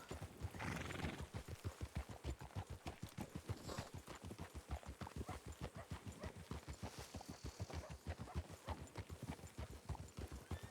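Horse hooves clip-clop in a steady, even rhythm in the RedM video game, loud and close throughout, with a horse briefly neighing near the start.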